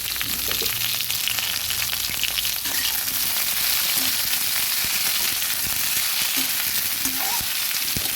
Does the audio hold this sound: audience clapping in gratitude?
no